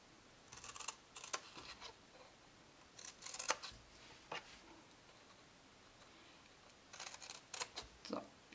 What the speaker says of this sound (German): Jetzt schneide ich mir hier so Keile aus.